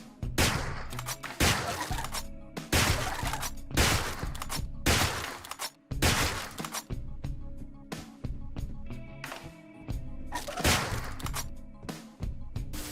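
An M1 Garand rifle fires in a video game, sharp punchy gunshots in irregular bursts of single shots with brief gaps, loud and close, no talk over them.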